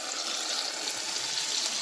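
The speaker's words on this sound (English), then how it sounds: "you basically add a little water to the container that you're seasoning in, and then you pour it to the pot" Water is poured from a seasoning container into a cooking pot of curry chicken, a steady, close stream that splashes evenly for the whole short stretch.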